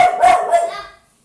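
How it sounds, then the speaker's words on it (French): A pet dog indoors barks three times in quick succession, loud and close, then the sound fades into quiet. "c'est ma chienne qui aboie. Parce qu'il y a quelqu'un dehors"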